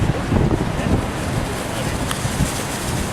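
Wind blowing at Niagara Falls during an outdoor stage performance, a steady roaring rush buffeting the microphone, with faint low voices underneath.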